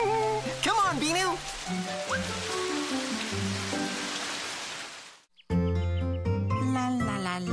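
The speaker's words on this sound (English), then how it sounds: "Hey, it's raining!" Rain falls in a cartoon as a steady soft hiss under cheerful music and cartoon voices, then cuts off abruptly before the music carries on.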